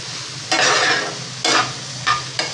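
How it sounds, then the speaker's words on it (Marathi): Ginger-garlic paste stir-fried in oil in a pan: loud, close bursts of sizzling and scraping as a spatula sweeps the pan, four strokes, with brief quieter pauses between them. "आलं लसणाचा कच्चेपणा जाईपर्यंत पुन्हा तेलामध्ये परतून घ्यायचं"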